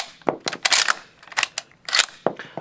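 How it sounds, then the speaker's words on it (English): Lee Enfield No.1 Mk III rifle bolt cycled repeatedly to unload the magazine, close, sharp metallic clacks and snaps in quick bursts, about three rapid cycles. "just to cycle the bolts until no further rounds remain in the magazine"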